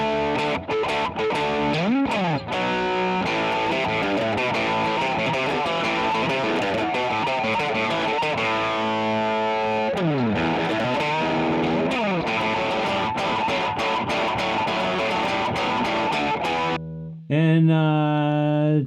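Heavily distorted, crunchy guitar-like tone from a Diamond Crunch distortion effect on a podcast mixer, loud and sustained with sliding pitch bends, ending in a short clean burst.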